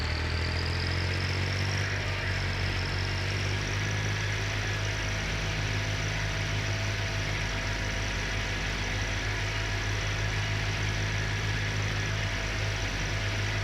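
A tractor engine in the video game Farming Simulator 19 runs steadily and close, a continuous low mechanical drone with an even hum throughout and no talking.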